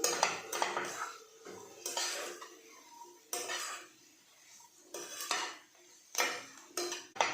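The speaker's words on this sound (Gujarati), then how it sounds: "હવે આપણે જે રોટલીને ભાગી રાખી છે તે નાખી દઈશું બરાબર મિક્સ કરીશું" Leftover roti pieces being stirred into a seasoned pan for a vaghareli rotli snack, heard as bursts of metal spoon clinking and scraping against the pan, irregular and fairly close, with quieter gaps between strokes.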